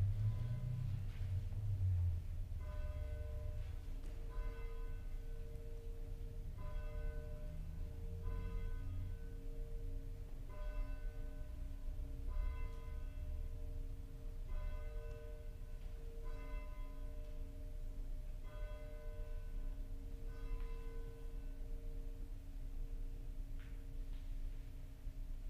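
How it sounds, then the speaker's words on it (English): A church bell tolls slowly and steadily before a Sunday service, evenly spaced strikes with a ringing hum lingering between them, heard from some distance. "as we listen to the tolling of our church bell"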